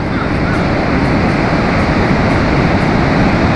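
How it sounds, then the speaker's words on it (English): Ocean waves on a beach in Casablanca give a loud, steady, broad roar of surf, close and continuous with no distinct breaks and no talk. "Beautiful beach here. Waves are nice."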